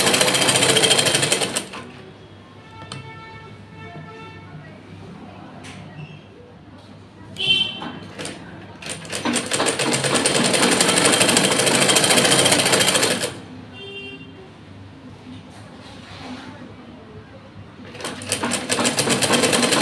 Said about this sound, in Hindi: अब इस पे भी हम एक पैर की सिलाई लगा देंगे ताकि पॉकेट के अंदर